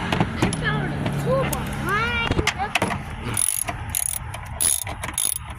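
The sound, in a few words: ratchet and socket on bolts of a Chevy Tahoe air intake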